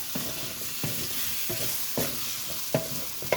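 Eggplant and zucchini frying in a pan for a vegan vegetable curry, with a steady bright sizzle and a spoon scraping through the vegetables in regular strokes about every second, close up and with no voices.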